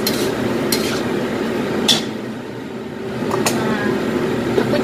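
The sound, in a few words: stir-frying Nien Kao ingredients in a pan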